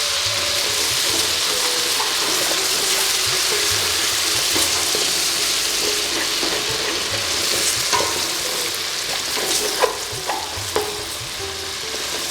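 Sweet spice mix is stirred into sizzling korma masala for Awadhi mutton korma, a steady frying hiss with occasional spoon scrapes and clinks toward the end.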